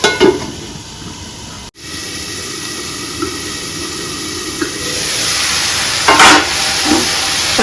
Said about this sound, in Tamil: காய்கறி காளான் எல்லாம் நல்லா வதங்கிருக்கு.